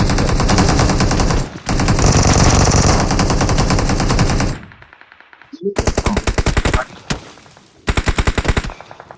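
Rapid automatic gunfire from the mobile battle royale game PUBG Mobile, loud and dense in long sustained bursts, then a short pause and several further choppy volleys.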